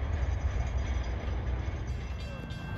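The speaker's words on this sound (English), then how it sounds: "Here comes the steam train at 110." A steam train on the New Hope & Ivyland Railroad passes with a heavy, continuous low rumble and rolling noise, steady and fairly loud for the whole short stretch.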